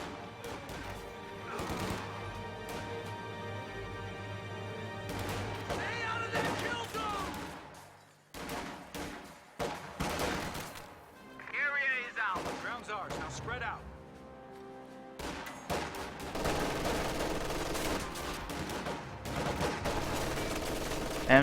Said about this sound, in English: MG42 forces a retreat from that rifle squad.